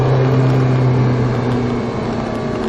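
A Ferrari 458 Italia engine drones loudly and steadily from inside the car, a constant low hum held under acceleration on track with no clear rise in pitch.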